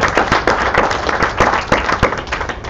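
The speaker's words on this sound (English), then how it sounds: "please join me in a round of applause for the folks who are here" A crowd applauding steadily, dense overlapping claps forming a loud, continuous wash of sound with no talking.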